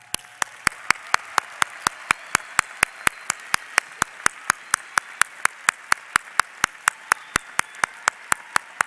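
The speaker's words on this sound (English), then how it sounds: "graduates, let's give them a huge round of applause" Steady, evenly spaced sharp claps at a high school graduation ceremony, roughly three per second, crisp and loud, in a regular metronomic rhythm, as if a single clapper or a tightly synchronized group.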